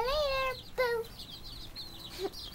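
Roosters clucking nearby, a couple of sharp, tonal clucks up front followed by softer chatter and a short final call, with quiet background noise.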